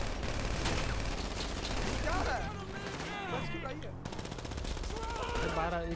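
Rapid automatic gunfire crackles through a shootout during the prison break heist in Grand Theft Auto V, with a player talking excitedly over the shots.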